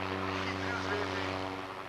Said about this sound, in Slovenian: Sedaj spremljamo letalo v njegovem elementu, torej počasno in varno letenje.